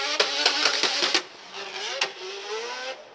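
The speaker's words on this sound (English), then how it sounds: "listen to this car here scream." A four-rotor twin-turbo drift car screams at high revs during qualifying at Suzuka Twin Circuit, a loud shrill wail punctuated by sharp pops and gear shifts, then a rising sustained howl.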